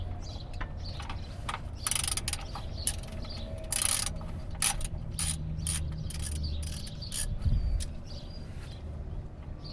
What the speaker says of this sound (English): And you're just going to undo the oil plug.